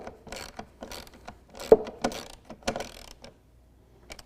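Bolts being tightened by hand while installing a DECKED truck bed storage system on a 2016 Toyota Tacoma: a series of quiet, irregular metallic clicks and ratcheting ticks, close by, with brief pauses between turns.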